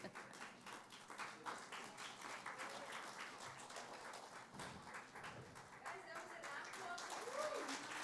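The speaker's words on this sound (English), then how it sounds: "Everybody, a round of applause." An audience claps to welcome a guest onto a stage at a talk event. The applause is moderate, close and continuous, and a voice speaks briefly over it toward the end.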